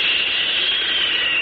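Airplane roaring overhead as a sound effect in an old-time Superman radio show opening, a loud, continuous jet-like hiss in thin, band-limited broadcast quality, with no voices.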